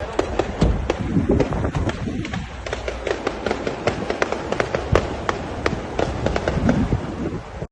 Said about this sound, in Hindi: ये हमला हुआ है, उधर पूरी गोलियां चल रही हैं।